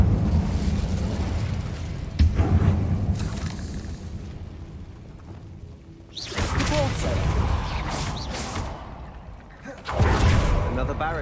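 Incendio fire spell in the Hogwarts Legacy video game, with repeated roaring whooshing bursts of flame and crackling rising and falling over several seconds, while voices talk through part of it.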